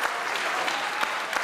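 Audience applause at a Punjabi comedy stage show in Faisalabad, brief steady clapping from a crowd, moderately loud and even.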